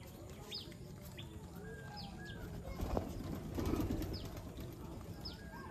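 Racing pigeons arriving at a loft to feed: soft wing flaps and occasional high chirps over a low outdoor murmur, with a couple of louder rustling bursts in the middle.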